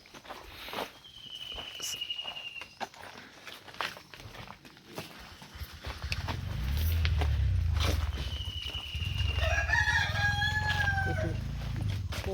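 A rooster crows twice at dawn in a village, the second call longer and wavering, amid footsteps and a low rumbling background that grows louder midway.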